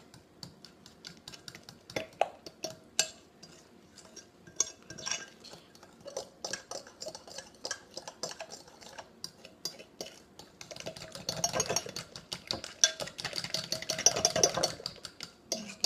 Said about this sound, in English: we're just going to kind of mix that together here